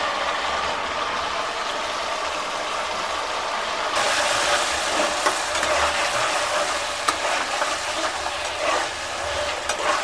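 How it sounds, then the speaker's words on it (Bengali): Onion and chicken meat frying together in a pan for a Bengali kosha mangsho, giving a loud, continuous close sizzle with steady crackle throughout and no voices. "পেঁয়াজ মাংস সব একসাথে ভাজা হচ্ছে"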